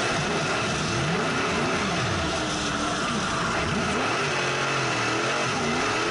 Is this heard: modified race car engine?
yes